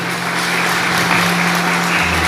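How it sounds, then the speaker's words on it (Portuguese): A church congregation applauds during a worship service, loud continuous clapping with a steady low hum underneath throughout. "Uma salva de palmas para o nosso Senhor."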